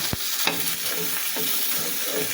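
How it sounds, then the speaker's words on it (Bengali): Tilapia fish frying in hot oil gives a steady close sizzle, with a few sharp scrapes of a utensil against the pan. "এপিট ওপিট করে ভেজে নিলাম"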